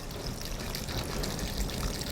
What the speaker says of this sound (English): And some coconut water.